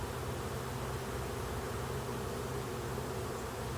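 Honey bees swarm around hive frames set out to be cleaned, producing a dense, continuous buzzing drone that stays steady and close throughout, with no voices.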